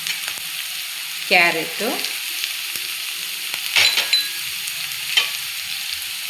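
Beans and other vegetables for a ragi vegetable soup go into a hot frying pan and get stirred, giving a steady sizzle broken by a few louder scraping stirs and clinks, with a brief word spoken over it.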